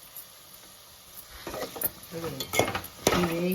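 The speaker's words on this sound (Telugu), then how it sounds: "ఇది మంచిగా తొందరగా వేయించుకోవాలి" Ingredients for a red lentil egg curry frying in a pan with a pinch of salt, quiet at first, then a rising sizzle with quick clattering stirs and scrapes close by.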